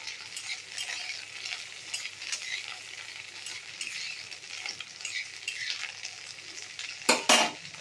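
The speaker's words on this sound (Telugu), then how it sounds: "మధ్యలో మూత తీసి కలబెట్టుకున్నాను." Green chillies fry in hot oil in a kadai as they are stirred with a utensil, making a steady close sizzle with occasional metal scrapes and a louder clatter near the end.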